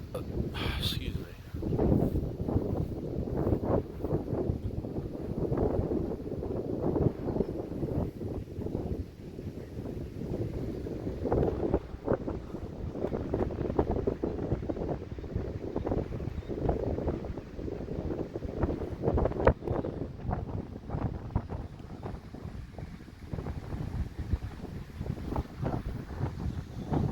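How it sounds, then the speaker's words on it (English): Strong, gusty storm wind buffeting the microphone in a steady roar for the whole stretch, with low rumbling surges and rustling noise. "the wind is starting to pick up"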